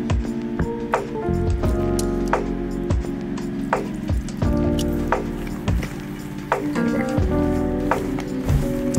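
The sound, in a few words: peanuts being mixed with flour coating while sprinkling water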